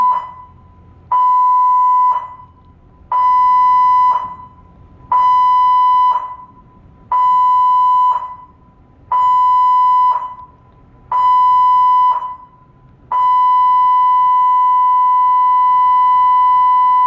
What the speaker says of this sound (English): This was the general emergency alarm for the mandatory muster drill.